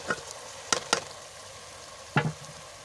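Okra goes into a pan of frying tomato masala with a few sharp clatters and bursts of sizzle over a faint background hiss, close and without speech.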